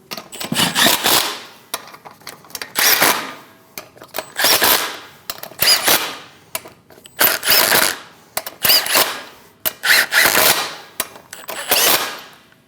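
An impact wrench or power tool snugs lug nuts on a Chevrolet Express 2500 wheel in repeated loud rattling bursts, each about a second long, separated by short pauses, close up with no talking.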